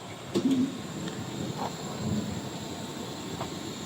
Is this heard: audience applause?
no